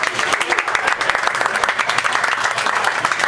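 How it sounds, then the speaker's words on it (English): A crowd at a homebrewing competition awards ceremony claps in a short, dense burst of applause that stays loud and steady throughout. "I definitely want to give them a round of applause."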